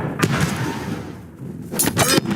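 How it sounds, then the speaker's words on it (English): Hits in the battle-simulation game TABS land as sharp, gunshot-like bangs: one loud crack near the start, a lull, then two close bursts toward the end, with no talk. "his hits are like gunshots"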